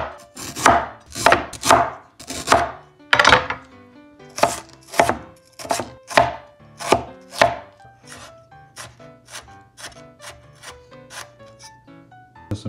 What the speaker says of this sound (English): we're gonna cut up some garlic or some ging